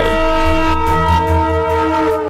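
A heavy train of around 200 tons of steel moving at about 50 miles per hour sounds its horn in a long, loud, steady multi-tone blast, with a deep rumble underneath, close by.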